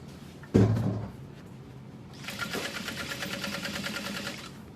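A thump sounds near the start, then a sewing machine stitching a barrel bag kicks in about halfway through, whirring in a fast, even chatter at close range until the end.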